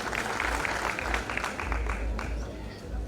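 Crowd applause rolls steadily through a political gathering in Kenya, a dense, continuous patter of clapping heard from within the audience, with voices mixed into the noise.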